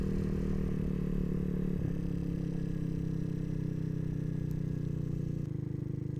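A scooter hums steadily through a turn, its engine a close, low drone with slight changes as it leans and comes out, a quiet, even sound.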